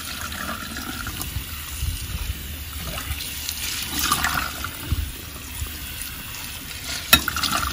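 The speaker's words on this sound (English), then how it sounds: "I'm going to let it run through a colander rather. I've pretty much cleaned it already, so I'm just washing it off to get any dust off it" Tap water runs steadily over melon seeds in a colander as they are rinsed, a continuous close splashing wash with small clatters.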